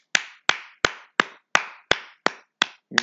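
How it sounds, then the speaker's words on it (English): Eight crisp hand claps at an even, brisk tempo, each a sharp close slap with a short decay, heard alone against silence. "Round of applause."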